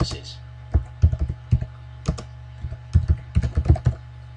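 Someone types on a computer keyboard while entering data into accounting software, with irregular bursts of close key clacks over a low steady hum and no talking.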